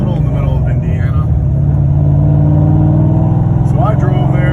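A C6 Corvette with a heads/cam LS3 V8 holds a loud, steady, close low engine drone throughout, rumbling with little change in pitch.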